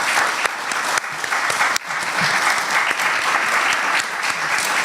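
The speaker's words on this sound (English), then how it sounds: "let's give a round of applause for our authors" A book festival audience gives a round of applause for the authors, dense and sustained clapping from a sizable crowd, loud and close, filling the room for about five seconds with a slight dip midway.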